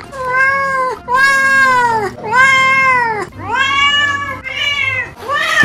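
A one-month-old kitten and a one-year-old cat meow in turn, a run of about six loud, close, drawn-out meows with rising and falling pitch, separated by short pauses.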